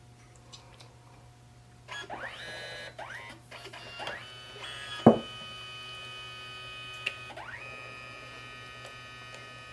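A small photo printer for journaling runs alone against a steady mains hum, with repeated short rising whirs as paper feeds through, one sharp click near the middle, and a faint tone near the end.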